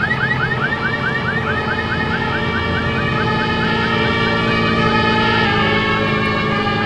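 A European-style two-tone siren from a train simulator game, wailing in a steady repeating up-down pattern over a constant engine drone, loud and continuous throughout.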